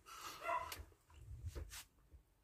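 Several dogs bark in short, faint bursts, spaced unevenly and heard at a distance against quiet background noise.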